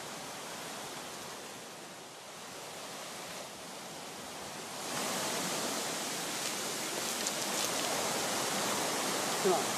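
A river flowing during a military border patrol, a steady broadband rush of water that grows noticeably louder and closer midway through, continuous with no distinct talk.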